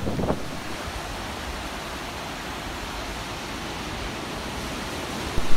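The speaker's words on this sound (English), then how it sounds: "3 to 5 foot waves today. It's like an ocean." Waves of 3 to 5 feet break steadily on the Lake Michigan shore, a constant broad roaring wash mixed with wind noise on the microphone and a small gust at the very end.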